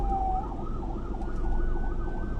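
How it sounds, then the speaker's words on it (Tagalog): Ambulance sirens wail on the NLEX northbound expressway near Marilao, Bulacan, several vehicles in a row, a loud rising and falling siren over heavy road traffic rumble, with no talk. "Bakit ang daming ambulansya? Apat na ambulansya magkasunod."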